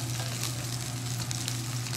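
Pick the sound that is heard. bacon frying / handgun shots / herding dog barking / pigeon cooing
bacon frying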